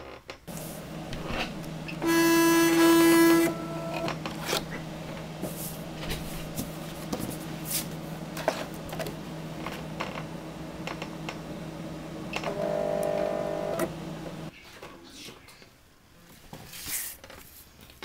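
A vinyl cutting machine loads its cutting mat and cuts iron-on vinyl, giving two brief louder motor whirs with tones and a steady mechanical hum and clicking between them. The sound is close and there is no talk.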